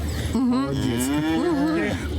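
Cattle being evacuated from a bombed farmyard in wartime Ukraine, with one cow lowing in a loud, drawn-out moo of about a second and a half that rises and wavers, close by over a low background rumble.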